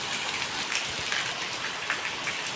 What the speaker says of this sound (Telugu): మళ్ళీ 1 అవర్ గ్యాప్ ఇచ్చి వర్షం పడుతూనే ఉంది